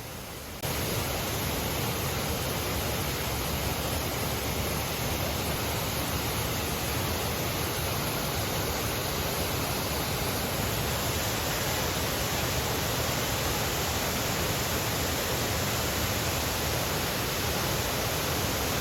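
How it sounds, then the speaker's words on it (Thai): Steady broadband roar of the Phu Soi Dao waterfall in Thailand, a continuous dense rush of falling water that stays loud and even throughout with no voices. "เมื่อได้ยินเสียงของน้ำตกภูสอยดาว"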